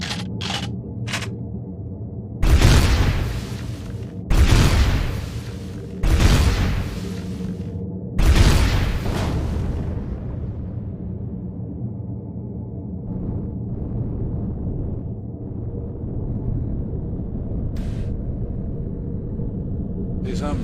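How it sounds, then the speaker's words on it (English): Weapons fire and explosions in the space survival game Empyrion: four loud, crackling blasts at a few seconds apart over a steady low rumble, followed by quieter hums and a faint distant pop or two. "See something shooting at me."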